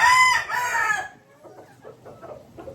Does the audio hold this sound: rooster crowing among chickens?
yes